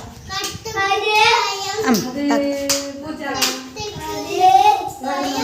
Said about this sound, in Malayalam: എല്ലാവരും ഒരു ക്ലാപ്പ് കൊടുക്കേ